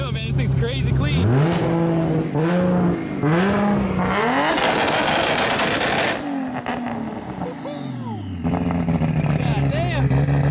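A Nissan Skyline GT-R R34 with an 1100 hp RB26 engine revs repeatedly, rising and falling in pitch with aggressive bursts and a roaring surge, loud and close, with voices talking underneath.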